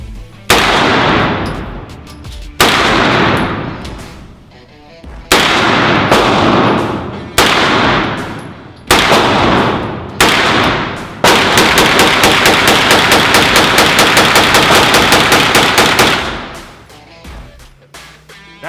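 A WWII German Luger pistol fitted with a red dot sight fires at a Texas gun club range: several loud, close single shots with ringing decay, then a rapid unbroken string of many shots before it stops.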